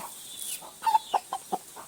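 A rooster gives a string of short, clipped clucks, close and fairly quiet, spaced irregularly over a couple of seconds.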